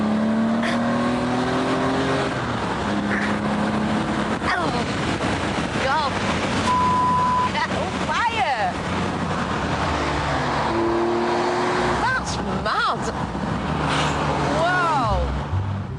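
A TVR Tuscan sports car accelerating hard from a standstill to 60 mph, its engine note climbing in pitch several times, heard beneath continuous talking and gusty wind noise.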